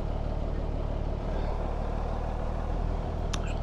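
A BMC truck engine in the Live for Speed racing game, a continuous low idling drone with a steady pulsing throb, held at an even level with a brief brighter chirp near the end.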